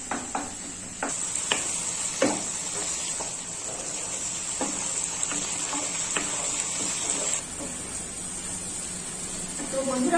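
Potatoes fry in oil with a continuous sizzle, broken by repeated scraping stirs of a utensil in the pan, while a voice talks over the cooking.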